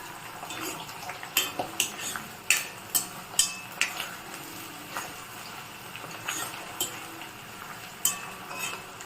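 Leaves frying in oil in a pan for homemade hair oil, stirred with a metal utensil: steady sizzling under repeated clinks and scrapes against the pan, close and clear, no voices.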